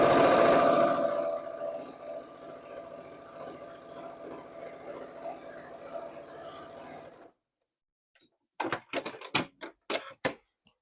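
A sewing machine stitches a quilt with a fast mechanical whir that starts loud and settles into a steady hum, then stops. A few sharp clicks and knocks of handling follow.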